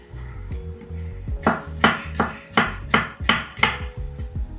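Steady knife chops through cucumber into half-rounds on a cutting board, about eight sharp strikes in an even rhythm, close and clear, with faint music underneath.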